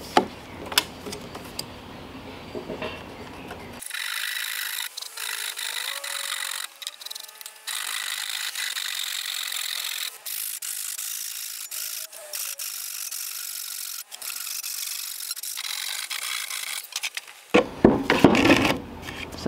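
A saw cuts an 11-inch section from a salvaged 8-inch sewer pipe, producing a long stretch of rough, raspy cutting strokes up close, with clattering handling noises at the start and end.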